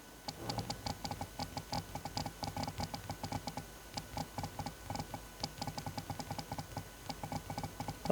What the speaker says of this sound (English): Let me just type on the OnePlus Nord 2.